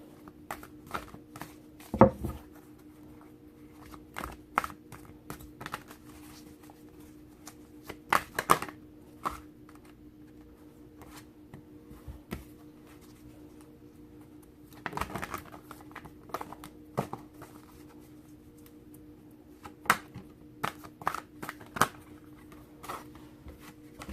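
Soft, intermittent riffles and taps of tarot cards being shuffled, in quiet bursts with pauses between, close by in a still room.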